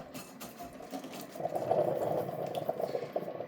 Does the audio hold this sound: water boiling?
yes